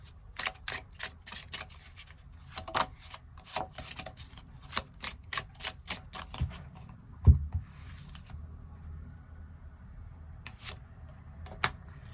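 Tarot cards are shuffled and drawn in a series of crisp, close slaps and riffles that come in clusters, then settle into a quieter stretch with a few isolated card flicks; no speech.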